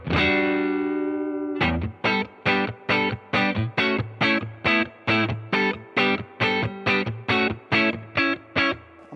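Distorted electric guitar through a Fender Tone Master Deluxe Reverb amp: a long sustained chord rings out, then a steady run of evenly spaced, punchy chopped chords follows, loud and close, with no talking.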